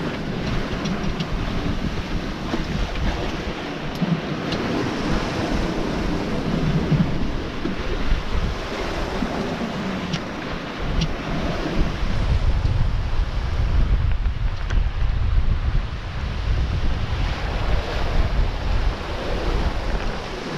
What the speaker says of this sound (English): The waves have actually gotten a little bit smaller,